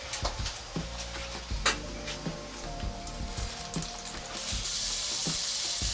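Veal from Cantal, seasoned with salt and pepper, sizzles and crackles steadily in a pan of olive oil and butter, with scattered pops and stirring clatter rising to a denser hiss near the end.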